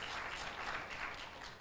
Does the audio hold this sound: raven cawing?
no